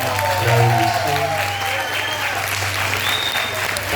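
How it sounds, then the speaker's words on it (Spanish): A church congregation applauding during a Sunday service, dense continuous clapping that stays loud throughout, with a voice and sustained tones running beneath it. "nuestra pastora Bexy, para que envíe un aplauso, por favor."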